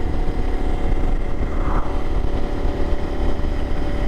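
A BMW GS 850 motorcycle engine drones steadily and loudly while the bike is ridden, holding an even, continuous tone without pauses.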